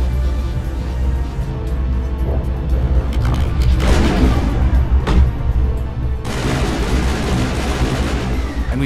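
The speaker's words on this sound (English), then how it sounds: "Here we've activated Overkill for some long-range, high-damage gunfire." Gunfire from the Mass Effect video game on PC, with an assault rifle firing long-range, high-damage shots amid booming combat; the shots layer loudly over a constant low rumble.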